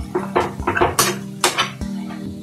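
Tomatoes being mashed in a frying pan for an egg pepper roast, with several sharp clanks and scrapes of a utensil against the metal pan, fairly close, over a low sizzle.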